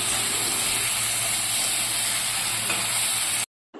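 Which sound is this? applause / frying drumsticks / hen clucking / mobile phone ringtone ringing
frying drumsticks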